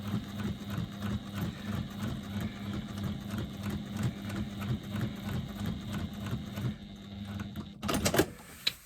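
A sewing machine basting foam and lining together around the edge runs in a steady rapid mechanical chatter, close and continuous, then stops with a few handling clunks.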